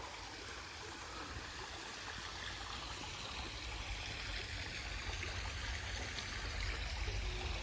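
A river flows steadily with a broad, constant rush of water, near and even throughout, and no voices.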